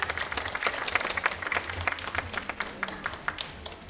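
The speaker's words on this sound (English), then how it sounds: "a huge round of applause" Parents applaud at a school nursery presentation, a moderate round of scattered hand claps with crisp individual claps standing out, steady at first and thinning toward the end.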